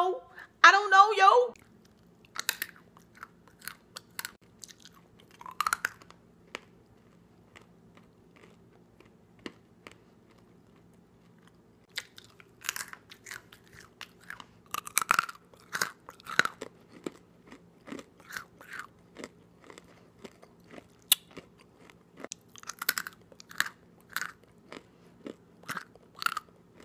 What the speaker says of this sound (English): these are the best grapes. Got them at Walmart. And they're crunchy and sweet.